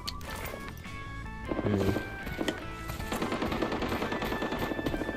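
Gunfire in the online shooter game Arena Breakout, with a burst of shots followed by a steady stretch of rapid automatic fire amid game noise and a sustained musical tone, loud and close.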